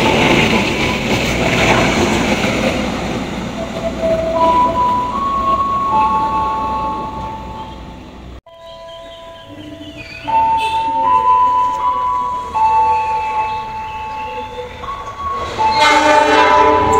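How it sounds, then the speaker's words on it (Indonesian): The Parahyangan train rolls through Tambun station, a loud rumble of passing cars with bright sustained horn blasts sounding repeatedly over the rail noise, close by and continuous. "Panoramik kereta api Parahyangan"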